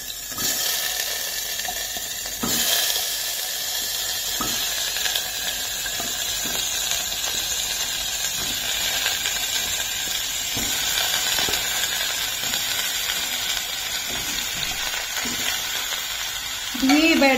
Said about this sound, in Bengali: দেখো মোটামুটি ঘিটা গরম হয়ে গেছে। এবার আমি দিয়ে দেবো এই গাজরগুলো।